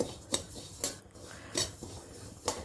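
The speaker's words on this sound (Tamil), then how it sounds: "அதே மாதிரி ஓமத்தையும் ஃப்ரை பண்ணிக்கலாம்" Ajwain seeds being dry-roasted and stirred in a pan, with four sharp, evenly spaced metallic scrapes of a utensil against the pan over a quiet background.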